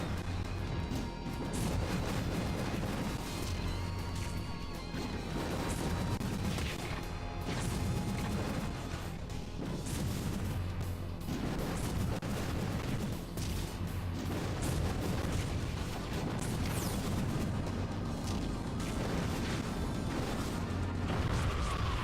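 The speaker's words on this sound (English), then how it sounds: "I'm gonna get away from that explosion before it kills me" A chaotic explosion and heavy crashing in Super Smash Bros. Brawl's Subspace Emissary mode, a sustained loud wall of booms and impacts that churns without letup over game music.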